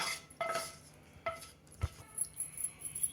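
Bun dosa batter with steamed chana dal, onion and curry leaves is mixed in a bowl, heard as a few quiet spoon clinks and scrapes against the bowl with short pauses between them.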